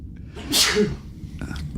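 A single sharp, close sneeze bursts out, followed by a brief faint sound afterward.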